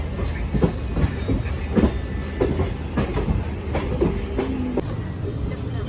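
Onboard the 12326 Nangal Dam–Kolkata Gurumukhi SF Express running on its journey, with a steady loud rumble, repeated wheel clacks over rail joints and a brief tonal squeal near the end.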